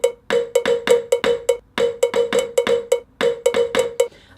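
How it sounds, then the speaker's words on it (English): A cowbell pattern drummed on a DJM 900NX2 DJ mixer, with sharp, bright metallic hits in a quick repeating syncopated rhythm, loud and close, cycling over two bars without any talk. "Say I came over here now and I just drummed the pattern with this cowbell"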